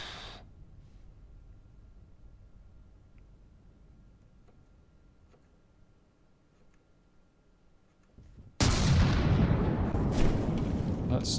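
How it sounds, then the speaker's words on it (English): Cannon broadsides in the naval combat game From The Depths: after a long quiet stretch of low rumble and faint ticks, a loud, dense wall of heavy gunfire bursts in and keeps roaring steadily to the end. "Do we take damage from those broadsides, or are we okay?"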